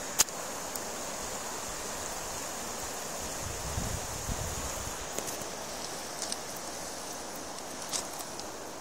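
The River Irvine in Ayrshire, beside the old Laigh Milton Viaduct, flows with a soft, continuous rushing hiss, fairly faint, with a few small knocks and rustles and a brief low rumble partway through.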